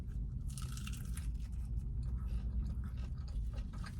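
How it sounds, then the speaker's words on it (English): Crunchy bite into a fried chorizo sope with a crisp outer shell, giving close, dense crackling and chewing noises that go on steadily without talk. "You hear that crunch? That was the bread."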